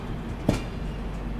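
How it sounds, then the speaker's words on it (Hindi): Vibhuti Express, the Prayagraj Rambagh to Howrah train, running six hours late and pulling into platform 1 at Varanasi Junction: a steady low rolling rumble with one brief, louder clank or hiss midway, no voices. "यहाँ पर अपने विभूति एक्सप्रेस का अराइवल यहाँ पे हो रहा है"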